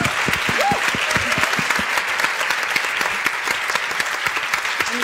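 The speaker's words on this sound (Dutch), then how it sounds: "En een heel groot applaus voor Gloria." An audience applauds at a talk event, a steady clatter of many hands clapping at moderate distance throughout, without a break.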